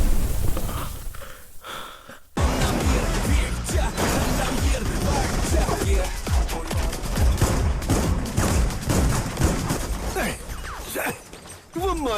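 Gunfire during a climactic fight scene in a Malayalam film: bursts of rapid loud shots and impacts in a dense, chaotic mix, with brief gasps and voices.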